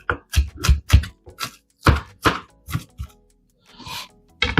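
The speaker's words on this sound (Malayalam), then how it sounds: "ആ സമയം കൊണ്ട് നമുക്ക് കൊറിയാൻഡർ ലീവ്സ് അരിഞ്ഞെടുക്കാം" Coriander leaves are chopped with a knife for raita, a quick series of sharp, close knife thwacks on a board in uneven bursts, with no talk over them.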